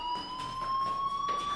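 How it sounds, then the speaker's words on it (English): A fire alarm rings in the video game Life is Strange, a continuous high electronic tone pulsing steadily and loudly throughout, with no talking. "do you hear that fire alarm? That means you should be outside."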